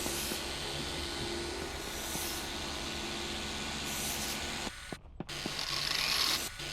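An oscillating polisher working on a car in Car Dealer Simulator, a steady loud mechanical whirring drone that runs continuously, briefly cuts out near the end, then resumes.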